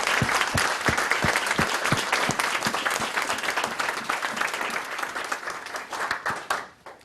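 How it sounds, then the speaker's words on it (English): A conference audience in Boise, Idaho gives a sustained round of applause for Russell Brunson, dense clapping with a few sharper claps, holding steady before tapering off at the end. "he needs a big round of applause"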